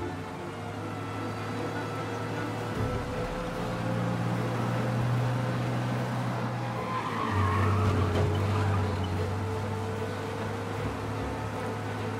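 Fast car chase in Mafia: Definitive Edition, with a steady engine roar and tire squeal skidding through turns, fairly faint and continuous under game ambience.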